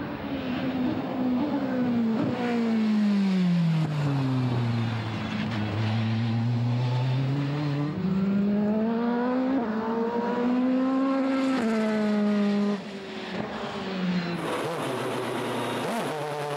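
A Mercedes Racing CLK race car with a 4-litre V8 drives past, its engine note rising and falling through gear changes in a loud sustained howl that swells and fades over several passes.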